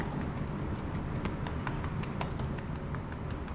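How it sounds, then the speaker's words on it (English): Crisp, irregular crunches and crackles sound up close over a steady background hiss as someone bites into crispy karaage fried chicken. "Crunchy chicken ASMR"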